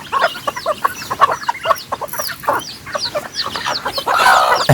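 Chickens on a rice-field farm cluck in quick, overlapping bursts, close and lively, with a denser flurry of clucks near the end.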